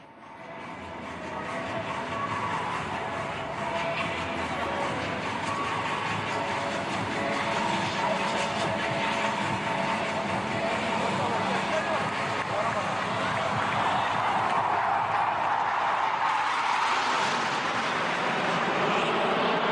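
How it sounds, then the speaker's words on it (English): Hawk Mark 132 advanced jet trainer flying past during an aerial display over Marina Beach, Tamil Nadu, a loud broadband roar swelling steadily over twenty seconds, with a crowd and commentary audible beneath. "the Hawk Mark 132 Advanced Jet Trainer. And to give you a closer look of this aircraft, please look to your right. Here comes number 7."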